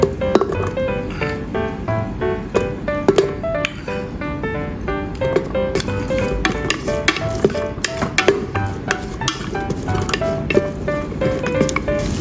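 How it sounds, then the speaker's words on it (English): Ginger slices, shredded scallops and diced oysters being stir-fried in a pan for porridge, a steady close sizzle with repeated clinks and scrapes of a spatula against the wok throughout. "Add shredded scallops and diced oysters and stir-fry to remove the fishy smell."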